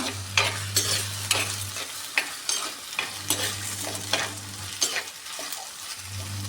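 Chopped tomato sizzles and fries in a pan while being stirred, with steady frying hiss and repeated scraping stir strokes in an irregular rhythm, close and moderately loud, with no talking.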